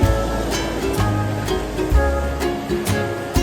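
Sea waves at high tide roll in and break nearby, with a low rushing surge and repeated bursts of splashing roughly every half second to second, and no voices.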